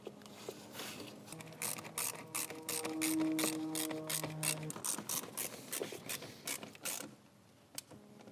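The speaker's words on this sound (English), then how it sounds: "There is a slot on these screws to tighten the hose clamps, so you could use a flathead screwdriver, but I just prefer to use an 8mm socket." An 8mm socket on a ratchet tightens the hose clamps on a BMW B46/B48 chargepipe, giving quiet bursts of rapid clicking strokes with brief pauses between them.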